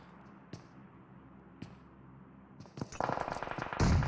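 Gunfire in PUBG Mobile during a championship match, a few isolated distant shots early, then a dense burst of rapid automatic fire and impacts building louder toward the end.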